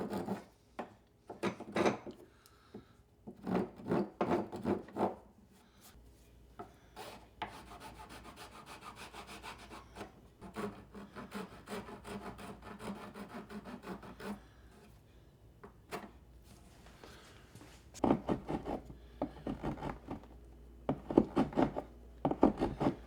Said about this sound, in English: I'm going to take the file, rasp, and lightly do our corners to kind of just show a little bit of natural wear and tear